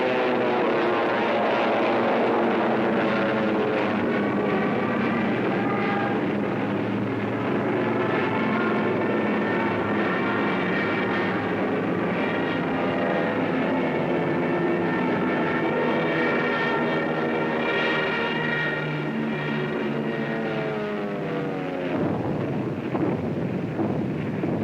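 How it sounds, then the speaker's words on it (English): Piston engines of WWII German fighter aircraft over the English Channel during the Battle of Britain, a steady, loud droning roar with wavering harmonic tones that holds throughout, with wind buffeting mixed in. "German fighters waited overhead for the defending planes of the Royal Air Force"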